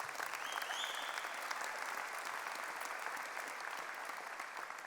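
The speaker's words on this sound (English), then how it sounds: "how about a round of applause for friends and family and their support" Steady applause from a large crowd at a university convocation ceremony, dense and sustained clapping throughout with no talking.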